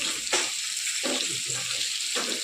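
Taro and sidol fish curry frying in a pan, a steady bright sizzle throughout, with a few soft stirring scrapes breaking through it.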